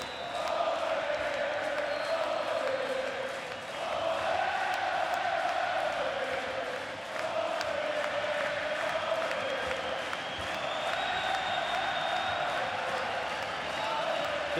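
A stadium crowd cheers and murmurs steadily throughout a baseball game between the Netherlands and Puerto Rico, a broad, distant wash of voices with slight swells and dips.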